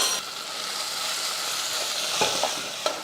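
Onions and tomatoes sauté in a pan with a steady, hissing sizzle, broken by a few soft scrapes and knocks of a stirring spoon, close and continuous.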